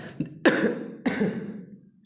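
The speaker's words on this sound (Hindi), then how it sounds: "खांसी आ गई।" Two harsh, close coughs in quick succession, each trailing off, preceded by a short throat-clearing catch.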